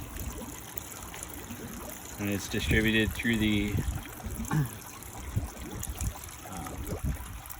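Water trickles and splashes steadily down a small waterfall in an aquaponic growing system in the background while someone talks over it up close.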